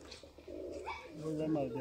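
A Golden Sialkoti pigeon's low, throaty cooing rolls on at close range, with a human voice murmuring faintly alongside.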